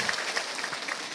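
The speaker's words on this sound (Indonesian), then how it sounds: "Tepuk tangan sekali lagi buat warga Cijati" A village gathering in Cijati at a religious gathering breaks into applause, a dense continuous patter of many hands clapping, steady and moderately loud, with no talking.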